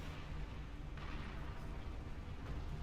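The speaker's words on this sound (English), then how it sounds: "And he's got the heavy cannon now." Heavy cannon fire in the Beyond All Reason strategy game, a continuous rumbling barrage of booms at moderate level with a brighter burst partway through, amid dense battle noise.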